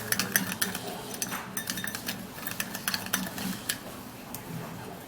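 A metal spoon scoops rice powder into a bowl, giving soft scraping strokes and light clinks that come in uneven bursts, close and quiet, with no voices.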